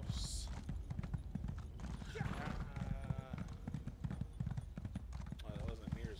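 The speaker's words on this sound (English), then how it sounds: "My trusty horse." Steady clip-clop of horse hooves at a gallop in the video game Elder Scrolls Online, rhythmic and continuous, with a brief whinny and game sound effects mixed in.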